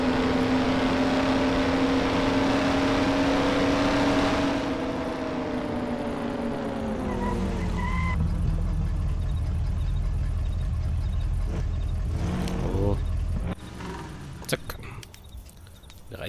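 A fast car in the video game Mafia, its engine sweeping down in pitch as it slows, followed by a muffled lower rumble with a few sharper noises and a sudden drop near the end.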